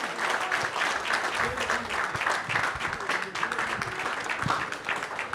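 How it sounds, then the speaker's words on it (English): An audience at an electronics company's office grand opening and press conference applauds warmly, a full, sustained patter of many hands with faint voices mixed in. "Please, another warm round of applause."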